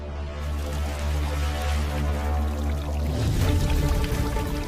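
Water overflows from a filled bathtub and flows out, beginning as a steady pour with a low mechanical hum beneath, then becoming a louder, broader splashing rush toward the end; no voices.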